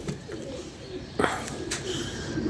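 Pigeons coo softly and repeatedly against steady background noise, with a short louder rustle or flutter partway through.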